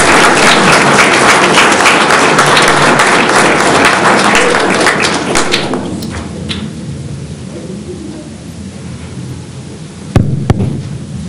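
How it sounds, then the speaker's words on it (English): Loud, dense clapping from a crowd at a Martin Luther King Day celebration fills the first several seconds, then thins out and fades, leaving a quieter room with a couple of sharp knocks. "So if we could just give a round of applause to Mr. Clark."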